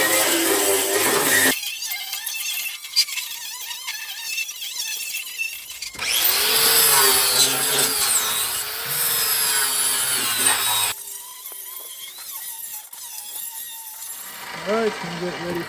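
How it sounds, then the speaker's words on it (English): A wire wheel and sanding disc grind on metal parts of a John Deere LA165 lawn tractor: harsh abrasive bursts, the spinning wheel scraping loudly, pausing and restarting, with short quieter gaps between passes. "Run the wire wheel on that and the sanding disc."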